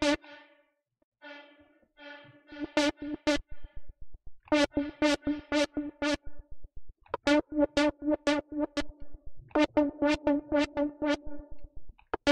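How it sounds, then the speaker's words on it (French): A synth sound run through a general reverb effect from an Infected Sounds VST plugin plays pulsing, rhythmic buzzy stabs in repeated bursts, bright and harmonically rich, with short tails between hits. "Et enfin, la réverb générale."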